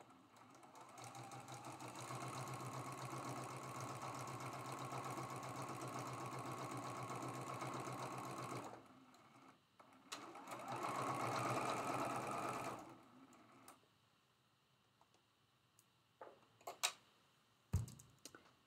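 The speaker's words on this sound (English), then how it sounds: "I'm going to sew this seam with a quarter inch seam allowance." A sewing machine runs a quarter-inch seam on a quilt block in a long steady whir, pauses, then a shorter second run, followed by quiet handling clicks and a soft thump.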